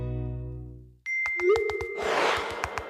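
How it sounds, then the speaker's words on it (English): A phone notification chime on a handset: a short bright ding with a rising tone, following a fading sustained tone and some clicks, heard alone and close up. "This is the sound of Dan's phone."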